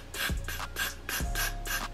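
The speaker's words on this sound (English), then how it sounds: "don't be too heavy-handed with this spray" Hair spray from a can: a series of short hissing bursts, about five in quick rhythmic succession, fairly close and clear with low thumps underneath.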